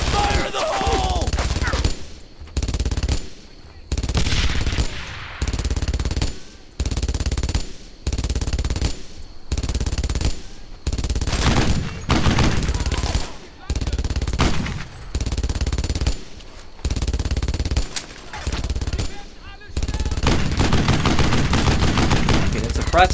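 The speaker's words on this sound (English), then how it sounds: "I wanted to use that MG to cover my teammates" Machine gun fire in the WWII shooter Brothers in Arms: Earned in Blood, heard as loud, close bursts of rapid shots broken by short pauses, then a longer sustained burst at the end.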